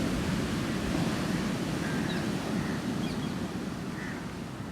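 Ocean waves on a beach make a steady, loud wash of surf that barely changes, continuous and enveloping, with no voices.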